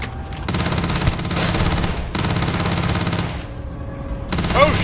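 Sustained automatic gunfire in the sci-fi video game Starfield, dense rapid bursts at close range filling nearly five seconds, with short breaks and a final whirring sweep near the end.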